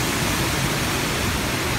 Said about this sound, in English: This is from where the Jaana waterfall starts and flow uh, towards